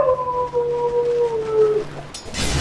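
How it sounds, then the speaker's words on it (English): Long sustained wolf-like howl from a creature in the video game Dota 2, a single drawn-out wavering cry gliding slowly downward, followed by a burst of noisy game sound effects at the end. "Even the dogs are howling outside."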